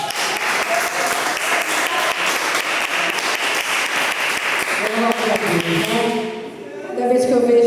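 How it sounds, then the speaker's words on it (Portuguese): A church congregation claps steadily in a loud, dense wash, with voices and sung tones rising over the clapping as it tapers off near the end. "as palmas louvam ao Senhor."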